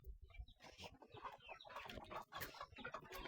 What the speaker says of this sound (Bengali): মুরগিরা যে ঘরে উঠার জন্য আসছে